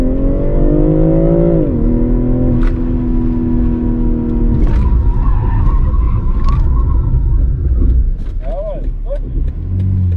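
During a driving safety training session, a car engine revs hard and tires screech as the vehicle slides sideways, rubber squealing loudly before the engine noise settles, with a brief voice near the end.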